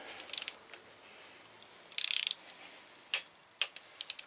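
Torque wrench tightening a bolt on a BMW R1200RT motorcycle engine during camshaft work, with quick bursts of ratchet clicking followed by a few single sharp clicks, close and crisp in quiet surroundings.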